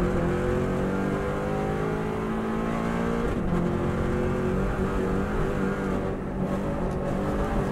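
A Subaru WRX STI driven flat out on the Isle of Man road course, engine roaring from inside the car as it accelerates out of a corner, pitch climbing through the gears with a brief shift break and constant road rumble.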